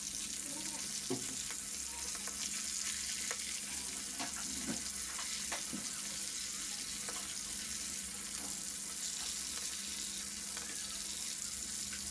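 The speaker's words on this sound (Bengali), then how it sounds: "মাছগুলো বেজে নিব" Fish frying in a pan for a home-cooked Bengali curry, a steady close sizzle that runs throughout with occasional clinks and stirring sounds and a hint of running water.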